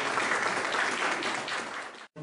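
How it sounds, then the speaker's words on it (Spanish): A seminar audience claps steadily and warmly for a guest speaker for a couple of seconds, a dense wash of applause that cuts off abruptly at the end. "Recibamos un fuerte y caluroso aplauso a nuestro invitado"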